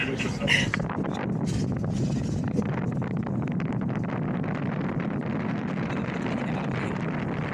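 Steady wind roars and buffets across the open deck of the MSC World America cruise ship, a constant broadband rush with gusty bursts that stays loud throughout, with voices mixed in beneath.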